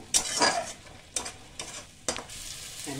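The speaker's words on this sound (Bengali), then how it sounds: "এবার এটা একটু কষে নেব, কষে নিয়ে একদম শুকিয়ে নেব" A bitter gourd dish is stirred and sautéed in a hot pan, with several sharp scraping stirs cutting through a steady sizzle of frying.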